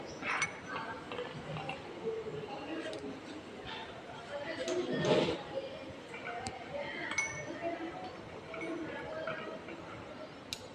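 Glassware clinks faintly and sporadically as a nitrating mixture is stirred in an ice bath while acetophenone is added during a lab synthesis, with light ticks and taps under a low background hum and a person speaking.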